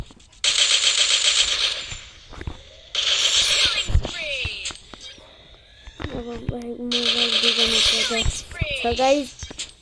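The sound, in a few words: mini machine gun firing in a video game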